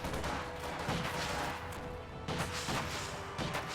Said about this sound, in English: PTRS just exploded on a shoe mine, I think.